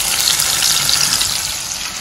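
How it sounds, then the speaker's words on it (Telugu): Ridge gourd pieces fry in a pan, making a loud, steady hissing sizzle that runs without a break, close and alone with no talking. "బీరకాయ బాగా వేగిపోయింది"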